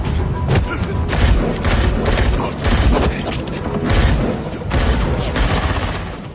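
Gunfire in a film shootout at a house involving police, rapid bursts of close, loud shots in quick repeated clusters with booming low thuds throughout.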